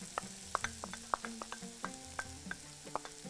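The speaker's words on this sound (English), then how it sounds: "we saute the garlic." Garlic sautéing in a pan for a Bahraini dish, with a steady sizzle under a run of distinct utensil scrapes and taps against the pan, fairly quiet and close, no talking.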